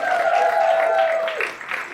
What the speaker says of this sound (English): round of applause for having us